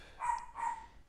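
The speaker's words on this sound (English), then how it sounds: "You guys can hear my dogs barking" Two short barks from a dog inside a house come in quick succession, fairly faint and somewhat distant.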